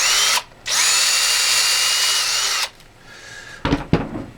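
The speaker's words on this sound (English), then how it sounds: "A little short, so I'm gonna have to drill it a little deeper." A power drill deepens a hole toward 1¼ inches at 9/32 inch diameter: a brief spin, a pause, then a loud, steady whine for about two seconds that cuts off, followed by a few clunks and knocks.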